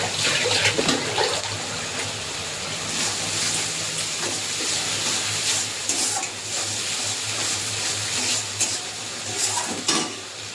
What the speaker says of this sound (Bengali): বাটিটা ধুয়ে একটু জল দিয়ে দিয়েছি,